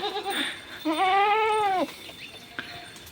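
Goats bleat on a village farm in rural Maharashtra: one clear, wavering bleat about a second long stands out close by, with brief fainter animal and background sounds around it.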